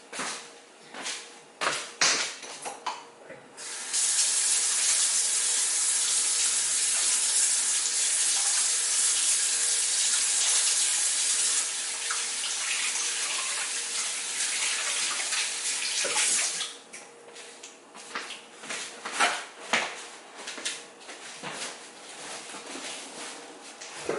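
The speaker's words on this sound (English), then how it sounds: "I have to get some sanitizer. Wash my hands." Water running from a tap for handwashing, with a steady loud gush lasting about twelve seconds between splashy, uneven stretches of water and handling at the start and end.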